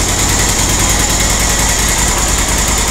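A QBK Q Link Tour 250 motorcycle engine, nearly new and still in break-in, idles steadily close by, a continuous even rumble with a light buzzing edge and no talk.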